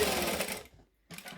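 Sewing machine back stitching a bag pocket, a short whirring run of stitches that stops for a brief pause, then starts again.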